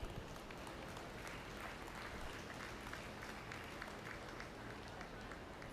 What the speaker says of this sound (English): Give these exhibitors and cattle a round of applause